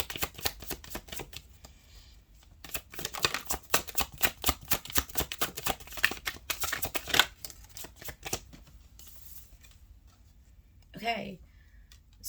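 Rapid riffling of a deck of tarot cards being shuffled in several bursts, close up, followed by a brief voice near the end.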